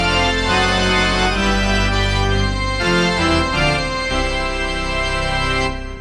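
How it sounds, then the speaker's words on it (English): Prestige Plus organ with the Big Z Power pipe organ voice sounding full, sustained chords that shift a few times, rich and loud with no talking. "known to have a very unique pipe organ sound that no"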